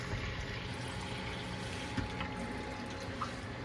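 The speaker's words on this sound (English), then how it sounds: "I'm going to be adding approximately 1 cup of water, filtered." Filtered water being poured into a bowl for sourdough bread dough, a soft continuous trickle with faint splashes, quiet and steady, no talk.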